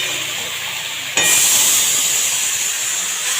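Green beans, potatoes and onion frying in a pan with panch phoron spice mix; a quiet background suddenly bursts into a loud, steady sizzle that hisses on without a break.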